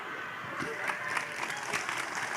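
Soft crowd applause rises from the audience at an Indonesian religious sermon, a brief patter of hand claps heard at a distance and fairly faint.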